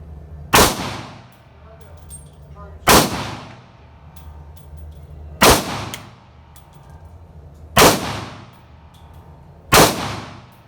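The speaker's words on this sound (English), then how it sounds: "Now I'm going to shoot the Ruger. 5 rounds through the Ruger." Five sharp gunshots from a Ruger 57 pistol ring out at a slow, even pace roughly two seconds apart, each loud crack followed by a brief echoing tail at an outdoor range.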